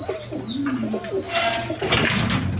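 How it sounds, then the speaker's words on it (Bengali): A pair of high-flying Giribaz pigeons coo close by, with repeated soft throaty coos and a few faint chirps over a short stretch. "এক পেয়ার গিরিবাস কবুতর আছে হাই ফ্লাইং গিরিবাস কবুতর"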